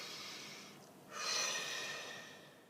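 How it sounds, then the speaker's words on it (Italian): A single deep breath drawn in and let out slowly, close to the microphone, with a short pause before a longer, louder exhale. "facciamo un bel respiro profondo."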